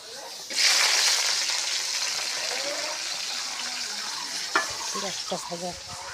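Chopped onion, garlic and chilli hit a hot wok with a sudden burst of sizzling that settles into steady frying, followed later by a few clinks and scrapes of stirring.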